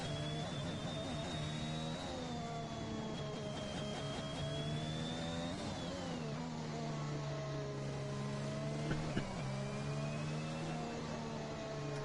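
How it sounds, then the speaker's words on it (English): Racing car engines from the video game F1 2021 rev and whine steadily throughout, with strong harmonic tones that rise and dip as the cars accelerate and shift. The sound is loud and continuous, with no talking. "These engine sounds are bizarre."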